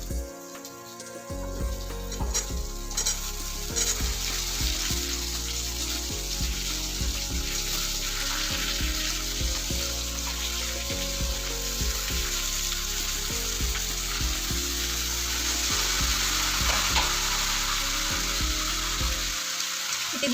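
Potatoes, eggplant and garlic fry in a pan over slightly browned onions, a steady loud sizzle running throughout with repeated scraping and stirring knocks from the spoon.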